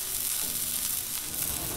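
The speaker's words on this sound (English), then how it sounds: "You can hear that sizzle." Chopped carne asada sizzles on a 22-inch Blackstone griddle, a continuous close hiss and crackle of frying meat, steady and even with no talking.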